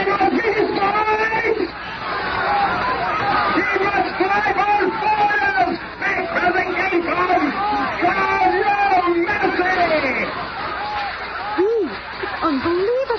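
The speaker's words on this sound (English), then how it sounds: "The crowd's gone nuts." Angry crowd in an old-time radio drama roaring and shouting in a dense, continuous wall of voices, with individual yells rising and falling throughout, loud and close.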